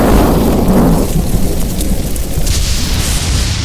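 A loud, sustained thunderstorm rumble with steady rain in an animated 3D folk-tale scene, the deep roll strongest at first and then settling into a continuous wash of rainfall.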